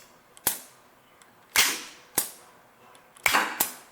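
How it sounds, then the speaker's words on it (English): A valve being worked on a Rockford shaper gives four or five sharp, loud bursts at uneven intervals. Each one snaps and then fades quickly, with near quiet between them and no talk. "So now when I move the valve, you can probably hear this."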